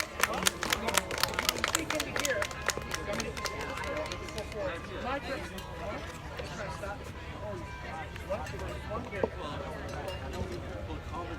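An outdoor crowd at a street rally applauds the next speaker, scattered claps and cheers that are sharp at first and then thin into a softer, ongoing patter over murmuring voices.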